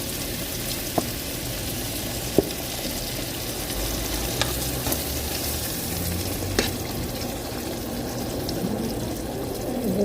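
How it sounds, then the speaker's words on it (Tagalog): Cooking cream poured into a pan of sizzling garlic and bacon, a steady close frying hiss with light stirring clicks and a few sharp taps, no voices. "Cooking cream."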